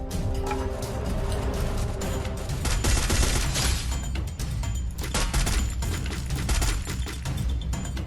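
Rapid bursts of gunfire fill a Free Fire battle royale match, a dense, continuous barrage of shots and impacts with booms, loud throughout the whole stretch.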